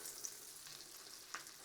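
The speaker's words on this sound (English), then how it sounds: "You can really hear the sizzle now." Tinned potatoes browning in a pan with garlic butter and rosemary give off a soft, continuous crackling sizzle, faint and fairly close, with a couple of brief louder pops and a light stirring scrape.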